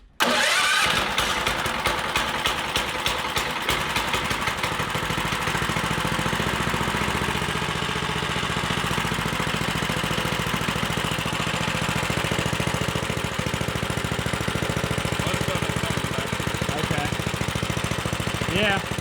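A small go-kart engine with a header hot plate sputters to life and then runs at a steady, buzzing idle, close by, with faint voices underneath.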